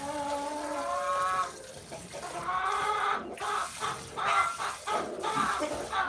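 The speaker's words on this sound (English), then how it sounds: "These chickens are so inconsiderate." Chickens cluck and squawk in a steady, close chorus, with overlapping calls throughout and no voices.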